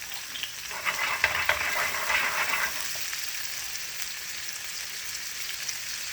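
Shrimp sizzling in a pan with cajun blackened seasoning: a steady, close hiss of frying with a brief burst of louder crackling early on, then settling into an even sizzle.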